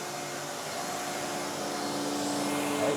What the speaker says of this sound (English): so I'll just turn the vacuum off and we'll have a chat